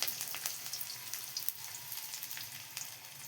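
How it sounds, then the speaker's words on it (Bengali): Chopped onions frying in oil until reddish, a soft close crackling sizzle with scattered pops, steady throughout. "লাল লাল করে ভেজে নেবো"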